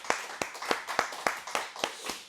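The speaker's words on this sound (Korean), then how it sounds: "우리 하나님께 감사의 박수를 드립니다." A small church congregation claps in unison after a Korean Sunday service prayer, giving about eight evenly spaced, fairly soft claps in a steady rhythm.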